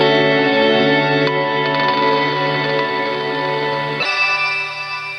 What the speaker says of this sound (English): have more of a granular-esque reverb where you can really hear the individual taps.